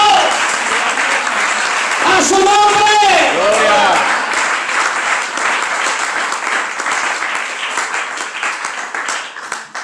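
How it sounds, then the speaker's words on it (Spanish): Loud, sustained applause from a church congregation fills the space, with a voice calling out praise over it briefly near the start before the clapping carries on alone. "Dale fuerte el aplauso a Cristo."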